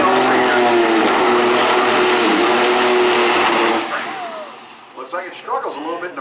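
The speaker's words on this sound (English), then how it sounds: "Looks like it struggles a little bit in the burnout to get the tire speed up." A rear-wheel-drive drag car does a burnout at Maryland International Raceway, its engine a loud sustained roar with screeching tires for about four seconds before it cuts off, then a commentator talks over the fading sound.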